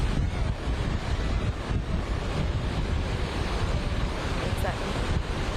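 Strong, steady hurricane wind roaring outdoors during Hurricane Beryl's landfall in Matagorda, a loud continuous rush with the gusts buffeting the microphone and no break across the whole stretch.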